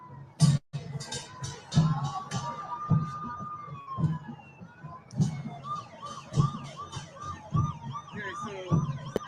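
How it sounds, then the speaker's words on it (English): A police siren wails in the distance, rising and warbling, while a crowd murmurs in a Chicago street during the Democratic National Convention and a rhythmic thumping beat repeats nearby. "Police siren."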